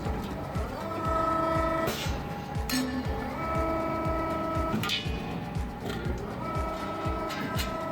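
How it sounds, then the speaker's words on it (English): A corner forming machine worked by a foot pedal runs through repeated mechanical press strokes, with sharp clanks and a steady rhythmic clatter close by. "You only need to put it here and press the foot pedal. The machine will press the product."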